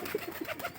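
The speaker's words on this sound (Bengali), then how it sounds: "পায়রাটার একটু ডাক কম হইলেও কিন্তু সবকিছুতে ভালো আছে পায়রাটা" A pigeon coos on a winter morning after being released from its loft. A few soft, low, rounded coos come in a loose rhythm, close by, with no talking.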